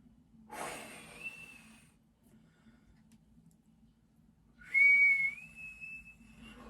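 A person whistles two sustained, slightly wavering notes with breathy air noise, the first brief and fading, the second louder and held longer after a quiet pause.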